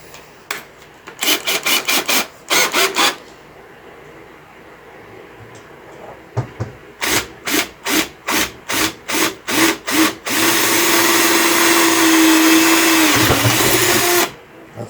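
Old rivets are worked out of a 49cc quad with a tool: several quick rhythmic grinding bursts, a pause, then a longer run of regular strokes, and finally a loud, sustained drilling whine lasting a few seconds.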